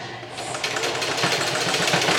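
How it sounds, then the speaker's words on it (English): A sewing machine runs steadily, its needle stitching in a fast, even mechanical chatter, close and fairly loud, with no voices. "Oh man, this sewing machine sometimes."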